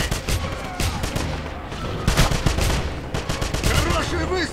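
Gunfire in the video game Wolfenstein: continuous loud bursts of rapid automatic shots and explosions fill the whole stretch, with scattered shouting voices under the din.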